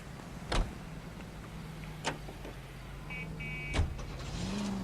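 An unmarked police car driven in the video game L.A. Noire, with a steady low engine drone and road noise and a few sharp clicks and thumps over it.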